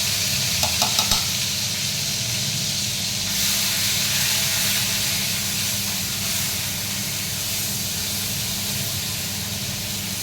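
Ginger and green chili paste fries loudly in a pan with a steady, dense hiss and sizzle, plus a few brief clicks of a utensil near the start.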